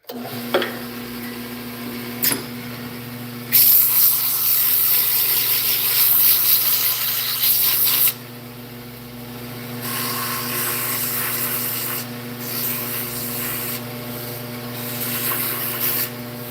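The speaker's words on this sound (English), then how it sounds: "I'm gonna sand it" A turned wooden pen or top is sanded on a lathe, heard as a loud, continuous rubbing abrasion over a steady motor hum, starting and stopping in several long passes.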